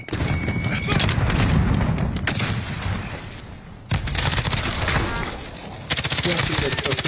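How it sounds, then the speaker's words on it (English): Grenade blast and rapid gunfire in Call of Duty Warzone, with dense, loud bursts of shots and a heavy boom near the middle, while a player talks underneath. "Grenade out!"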